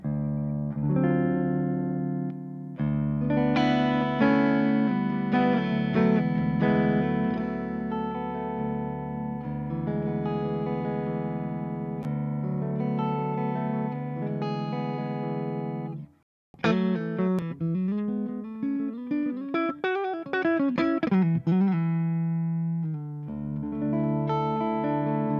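Electric guitar played through the clean channel of a Ceriatone British Style Silver Jubilee 2525 amp, sustained chords ringing out steadily, then a brief gap followed by quicker picked notes, loud and close with no talking.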